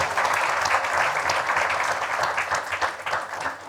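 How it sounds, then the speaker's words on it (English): A crowd at an architecture book launch breaks into a sustained round of applause, thick and continuous clapping that holds steady, then thins slightly near the end. "could I request a big round of applause for him, please?"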